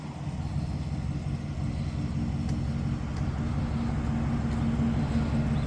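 A running truck engine, a pickup with a 6.2 engine, idles as the vehicle is being pulled out: a constant low rumble, moderately close and steady, with no voices.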